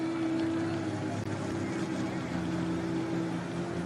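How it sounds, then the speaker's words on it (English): Tankers Toy, a pulling tractor from a two-tractor stable in Grandview, Indiana, at a Pro Pulling League Super Pro event, heard as a constant, fairly distant engine drone with a steady tonal hum and no break. "Tankers Toy, the tractor that Don Masterson drove for many, many years."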